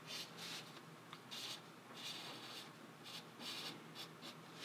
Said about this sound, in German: Das zeichnet sich mit dem Filzstift ein wenig schlecht.